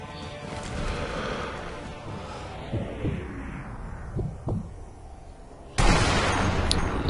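Sniper rifle shots ring out in the Sniper Elite V2 video game: several sharp, separate reports over a low rumbling bed, then a loud blast near the end. No one speaks.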